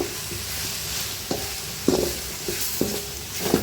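Ingredients sauté in a hot pan on a cooking stove with soft continuous sizzling, broken by several sharp clicks and scrapes of a spoon stirring against the pan.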